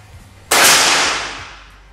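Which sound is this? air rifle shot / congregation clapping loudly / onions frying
air rifle shot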